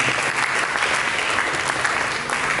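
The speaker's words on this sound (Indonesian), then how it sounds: "Mari kita berikan tepuk tangan bagi Yesus." Sustained applause from a church congregation, a dense steady clapping that fills the space for a few seconds with no breaks.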